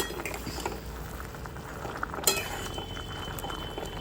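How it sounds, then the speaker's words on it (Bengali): Mango chutney with sugar bubbling in a wok as a spatula stirs it, a low steady simmer with soft scrapes and one sharper clink of metal partway through, no voices. "চিনি দিয়ে ভালো করে খুন্তি দিয়ে মিক্স করতে থাকব"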